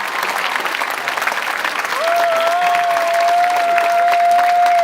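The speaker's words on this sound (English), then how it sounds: "graduates, let's give them a round of applause" A crowd applauds steadily at a graduation ceremony, the dense clapping swelling slightly louder midway while a high sustained tone, like feedback, rings over it.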